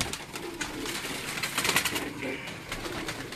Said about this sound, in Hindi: इस ब्रीड का एक और आपको दिखाता हूँ मैं कबूतर